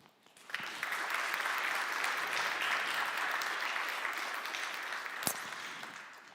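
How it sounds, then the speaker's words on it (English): Audience applause at a conference in Budapest rises quickly and holds as a steady, even wash of clapping for several seconds, then tapers slightly near the end. "let's give a big round of applause for all of the staff members who worked tirelessly behind the scenes"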